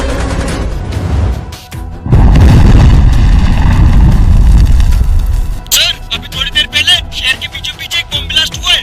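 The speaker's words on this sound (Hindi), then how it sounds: "अभी अभी हमारे शहर में आतंकवादियों ने बम ब्लास्ट किया है।" A terrorist bomb blast set off in a city: a loud, heavy boom swells into a sustained roar and rumble for several seconds, then gives way to scattered crackling and popping debris.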